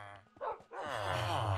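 Minecraft dogs bark and yip in quick, close, high-pitched bursts, with no talk over them.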